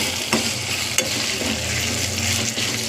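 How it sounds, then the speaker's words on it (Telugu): Okra seasoned with salt, masala and coriander powder frying in a pan, with a continuous close sizzle broken by a few stirring scrapes, moderately loud and with no talk. "బాగా వేగాలి."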